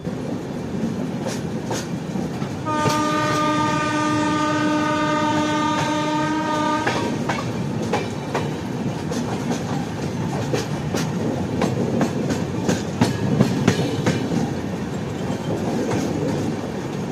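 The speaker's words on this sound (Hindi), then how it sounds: "ट्रेन हमारी बस दौड़ती जा रही है" Howrah Mumbai Mail passenger train running at speed, a steady loud rumble and rattle of the carriages with a long sustained horn blast early on, then continued clatter and rhythmic clicks from the track.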